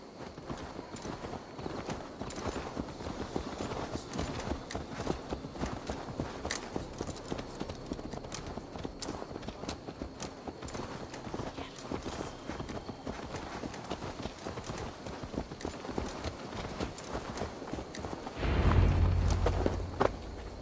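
Horse hooves clip-clopping in the video game Assassin's Creed Valhalla, a steady rapid patter of hoofbeats continuing throughout at even loudness, with a brief heavier rumble near the end.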